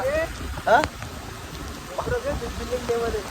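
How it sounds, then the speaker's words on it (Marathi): Heavy rain pours down steadily as a broad wash of noise while voices talk over it nearby. "जाम पाऊस आहे काहीच"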